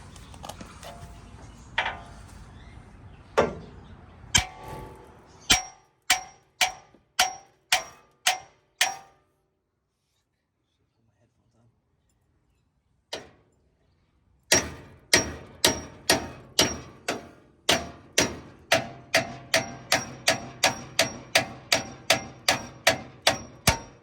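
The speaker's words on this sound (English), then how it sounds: "we're gonna strike this end right here, and hopefully the tie rod drops out" A hammer strikes a tie rod end on a first-generation Toyota Tundra in a string of sharp metallic clangs. A loose burst of blows comes first, then a pause of several seconds, then a long, steady, rapid run of ringing hits.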